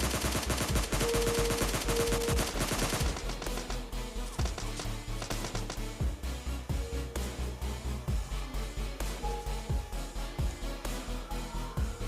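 Rapid automatic gunfire in a first-person shooting video game, fired from a crouch: loud, dense bursts of shots with a steady rhythm that run continuously through the whole stretch, no talking.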